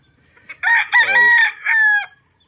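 A young gamecock stag crows loudly and close by, one full drawn-out cock-a-doodle-doo with a rising start and sustained ending, alone against near silence.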